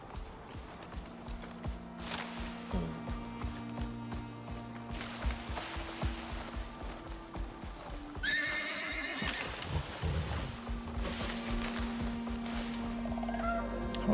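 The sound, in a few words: horse neighing in the video game Icarus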